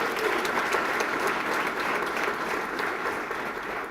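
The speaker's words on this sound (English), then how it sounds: "So give the judge a great round of applause." An audience at a drug treatment court graduation applauds the judge with steady, dense clapping that holds at an even level throughout and fades slightly at the end, with no talk over it.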